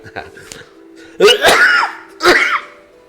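A couple of sharp, loud coughs burst out close by, with a voice speaking briefly before them.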